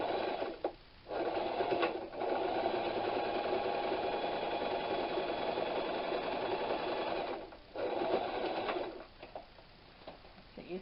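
A sewing machine runs steadily while stitching a quilt block corner to corner for a Storm at Sea pattern, a continuous close whir with two short pauses partway through and a brief stop near the end.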